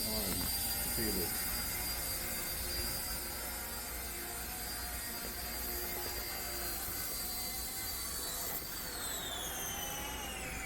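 A 1/48 scale UH-1 Huey model helicopter flies with a thin, steady high-pitched whine from its tiny motor and rotor, constant and fairly close, with the pitch shifting near the end.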